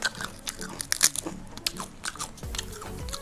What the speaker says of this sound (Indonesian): Dari segi suara tempenya aja udah kedengeran ya renyahnya kayak apa